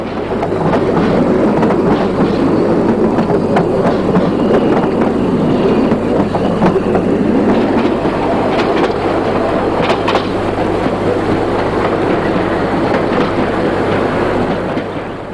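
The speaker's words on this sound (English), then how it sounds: "A Saxon 4 991586 arrives on the passenger train from Jörstadt" A Saxon narrow gauge steam locomotive rolls in with a passenger train from Jörstadt, a loud sustained rumble of wheels and moving carriages with scattered clanks, steady and close throughout.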